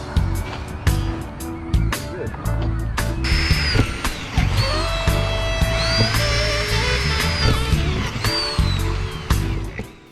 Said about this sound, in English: I started drilling the holes through the metal into the bus roof